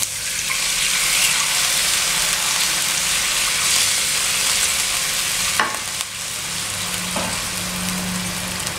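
Water is poured into a pan of sizzling fried spice paste with lemongrass and lime leaves, giving a loud, steady frying hiss that is broken by a sharp splash, then settles into a quieter bubbling simmer.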